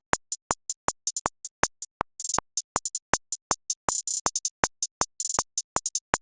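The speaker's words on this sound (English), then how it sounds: "now the hi-hat is gonna be sound like this" Programmed electronic hi-hat pattern for an R&B-style beat: crisp, evenly spaced ticks with quick rolls and fluttering triplet bursts, varying in loudness, isolated and up close.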